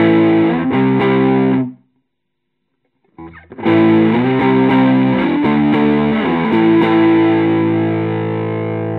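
An electric guitar runs through an Ibanez TS9DX Tube Screamer overdrive pedal set to TS9 mode, giving loud, sustained distorted chords. A brief silence of over a second splits two strummed passages, and no one talks.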